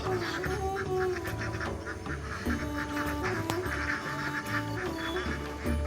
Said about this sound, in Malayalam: വൈകുന്നേരമാകുമ്പം ലൈനായിട്ടൊരാൾ വതുന്ന പോലെ വതും നമ്മുടെ താറാവ് കൂട്ടന്മാർ